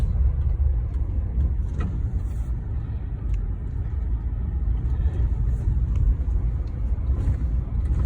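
A vehicle rolls along a dirt path through an RV park, a continuous low rumble of engine and tires on the ground that stays steady and fairly loud, with faint crunching on top.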